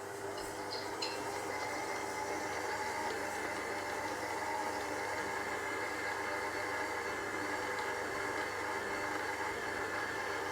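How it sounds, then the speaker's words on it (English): A Kenwood stand mixer with its beater fitted runs on first speed, beating caster sugar: a loud, steady motor whir with a constant rattling hum that continues without a break. "I just love these Kenwood mixers. They just shake and rattle and roll."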